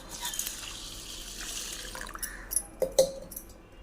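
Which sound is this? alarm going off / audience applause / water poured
water poured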